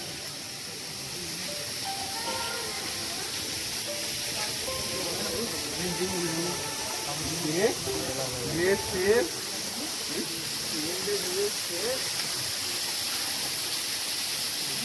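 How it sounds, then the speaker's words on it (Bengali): Steady broadband rush of the Himchhari waterfall near Cox's Bazar, heard after dusk as a continuous hiss with a person talking over it. "এটা কিন্তু হিমছড়ির ঝর্ণা"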